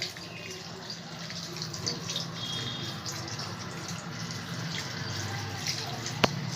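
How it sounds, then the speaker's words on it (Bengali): Water from a rinsed mixer jar that held ginger-garlic paste pours into a pot of red lentils, a steady soft splashing and trickling stream running throughout at low to moderate level, close by. "এবার আদা রসুন যে পেস্ট করেছি সেই মিক্সি ধোয়া জলটা আমি এর মধ্যে দিয়ে দেবো।"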